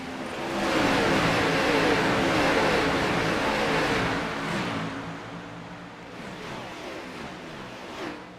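A pack of racing trucks accelerates off the green flag at Texas Motor Speedway in a racing video game, a loud, dense engine roar that swells, then eases slightly as individual revs rise and fall, with no talking.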